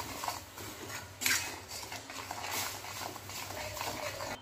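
Salt and Kashmiri red chilli being stirred into crushed lemon pickle with a spoon, a steady run of close metallic clinks and scraping against the dish, with one louder knock partway through.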